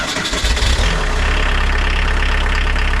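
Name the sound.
VW T25 van with swapped 1900 engine starting and idling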